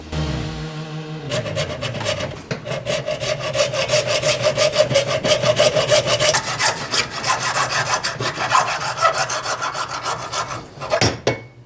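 A conventional motorcycle fork tube is sawn by hand along a tape line for a bobber build, with steady, close back-and-forth rasping strokes that run continuously and stop near the end, with no talking.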